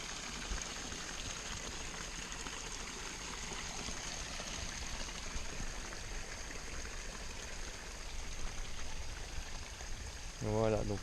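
Water flowing just below a small waterfall in a natural pond, a continuous trickling, splashing rush that stays steady and fairly quiet, with a brief voice-like tonal sound at the very end.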